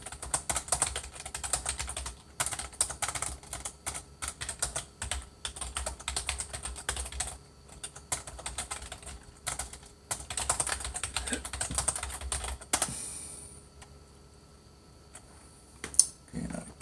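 Typing on a computer keyboard, rapid clustered key clicks in close bursts with brief pauses, the clatter stopping near the end with one last sharp tap.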